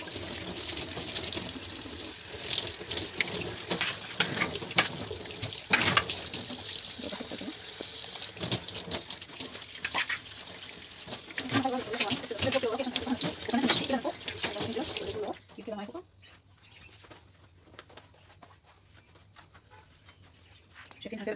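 Tap water runs steadily while dishes are rinsed at an outdoor street washing spot, a continuous splashing rush lasting about fifteen seconds before cutting off to near quiet.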